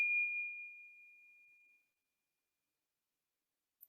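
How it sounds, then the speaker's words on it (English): A single bell strike rings out clearly and alone, its pure tone sustaining and slowly fading over nearly two seconds before silence. "if you hear the sound of the bell"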